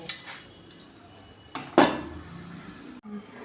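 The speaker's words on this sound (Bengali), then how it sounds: "স্ট্যান্ডের উপরে পাত্রটা বসিয়ে দেব, দিয়ে আমি একটা ঢাকা দিয়ে দেব" A metal cake pan set down on a stand inside a salt-filled pan, then covered with a lid: a few sharp metallic clanks and a scrape, with one loud clatter near the middle, close and alone.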